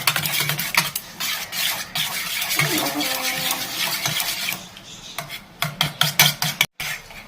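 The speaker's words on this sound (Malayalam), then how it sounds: "നന്നായിട്ട് നമുക്കിനി ഇതും കൂടി നന്നായിട്ടൊന്ന് മിക്സ് ചെയ്യട്ടെ" A spoon beats eggs and salt in a bowl for an omelette, giving rapid clinking scrapes against the bowl, steady at first, then breaking into sharper separate taps near the end.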